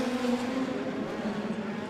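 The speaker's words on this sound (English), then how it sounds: "Down the back straightaway, still 4 very fast race cars" Four speedcars race down the back straightaway of the Murray Bridge dirt track, heard as a distant, sustained engine drone with steady pitch and faint tire noise.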